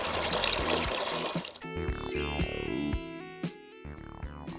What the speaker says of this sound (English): Fill a bucket partially with water.